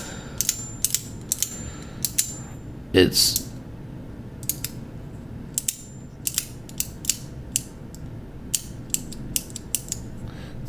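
A magnet-engaged mechanism clicks and ratchets in sharp, irregular ticks over a quiet background, close by, with a brief spoken word partway through.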